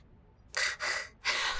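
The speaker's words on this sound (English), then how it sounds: "Hearing breathing noises." Close, soft breaths in a quiet room, three quick airy inhalations or gasps in a row after a moment of silence.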